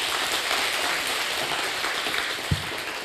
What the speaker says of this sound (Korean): 박수를 한번 격려해 주십시오.